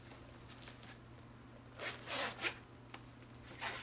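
A zipper on a small crossbody bag with two zippers and a front pocket is pulled open in a few short, quick rasping strokes, close and fairly quiet.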